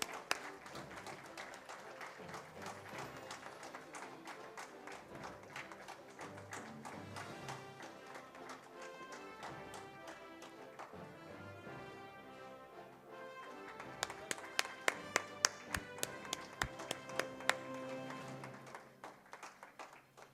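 Applause from an audience at an HR awards ceremony for the final set of winners, a steady clatter of clapping over background music, with a few sharp louder claps near the end.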